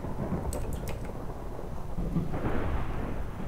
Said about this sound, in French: Et en plus il y a plein d'orages à côté.